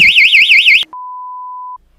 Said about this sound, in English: It happens to be a 102 decibel piezo siren.